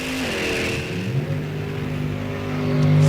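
Drag race car in a Sunoco Race Fuels ET Series event, its engine note rising in pitch as it launches down the track and pulls away, loud and close, building again at the end.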